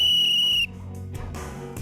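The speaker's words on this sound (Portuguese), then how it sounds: "Com apito, André dá o comando" A sharp, high whistle sounds as a command to a bird, one loud steady blast lasting about half a second, then cutting off into quieter outdoor background noise.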